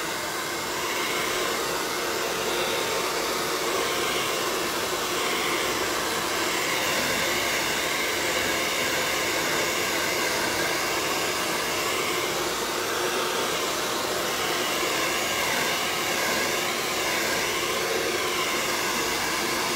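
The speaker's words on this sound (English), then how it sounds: "I'm taking my blow dryer to speed this up." A blow dryer set on high runs in a steady, loud, continuous whir for the whole stretch, drying acrylic paint on a Christmas reindeer painting, with no voices.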